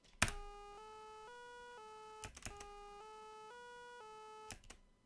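A short stepped tone pattern repeats twice, each pass starting with a click, a quiet looping sample with a mechanical, even rhythm.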